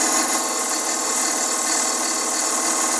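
A three-point DIY point tool rounding over the corner of a wooden keepsake box turning on a wood lathe, giving a steady, loud scraping hiss with a constant motor drone underneath and no pauses.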